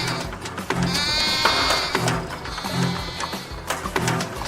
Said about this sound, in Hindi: लगता है कोई बकरी फंस गई है।